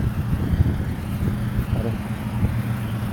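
A car rolls past outdoors on a test drive at a dealership lot, a moderate engine and tire rumble rising and fading against background traffic noise, with no voices.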